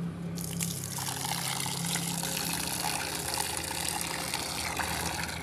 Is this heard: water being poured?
yes